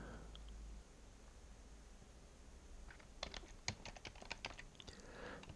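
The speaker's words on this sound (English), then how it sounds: "let's type the following" Quiet, rapid typing on a computer keyboard while entering CSS code, a burst of light clicking keystrokes that begins partway through, preceded by a low steady room hiss.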